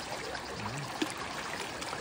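Water trickling and splashing as a child plays in it at a campsite, a continuous soft burbling flow with a small splash near the middle.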